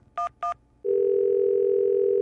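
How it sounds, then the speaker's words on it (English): A house landline phone: two short touch-tone beeps, then a steady dial tone that holds, loud and close, with no voices. "She picks up the house phone and dials 911."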